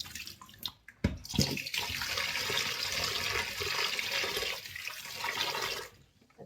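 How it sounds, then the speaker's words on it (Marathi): Water rushes and splashes over ration rice grains as they are rinsed clean, a steady gushing wash that runs for several seconds before cutting off abruptly. "आपण असं हे 2-3 पाण्याने स्वच्छ धुवून घ्यायचे."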